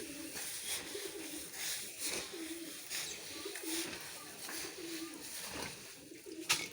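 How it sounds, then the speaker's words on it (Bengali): Domestic pigeons at a village homestead coo repeatedly nearby, low throaty rolling calls recurring every second or so, with faint background noise and no speech. "দেখেন আবার কবুতর আছে আমার"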